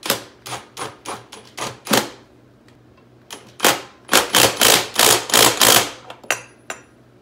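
A power tool zings a new castle nut onto the rear axle of a Honda ATC 200x three-wheeler, loud rapid bursts of impact hammering in two clusters separated by a short pause, then a few final hits.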